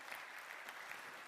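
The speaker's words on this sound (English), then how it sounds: "So can we give them a big round of applause, please?" Audience applause at an agricultural fruit-forecast conference, welcoming guests including the Agriculture Minister of Trento province; a steady, fairly faint wash of many hands clapping from across the room, with no talk over it.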